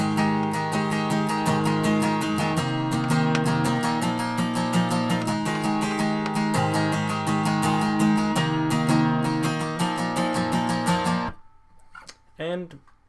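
Acoustic guitar playing a solo melody sequence from a song, a dense steady stream of picked notes over strummed chords for about eleven seconds, then stopping abruptly, leaving only faint background noise.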